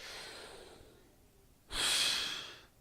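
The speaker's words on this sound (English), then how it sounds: "So I'll breathe in, so I'll force the breath into my lungs" A forced, deep breath drawn in through the mouth during respiratory muscle training, one strong airy inhalation that follows a quieter stretch of breathing; close and fairly loud.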